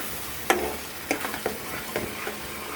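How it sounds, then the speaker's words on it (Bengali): Masala sautéed with tomato sauce in a pan, a few close scraping stirs of a spoon against the pan over a soft, steady sizzle, quiet and sparse. "দেখতেই পাচ্ছেন কিভাবে কষাচ্ছি"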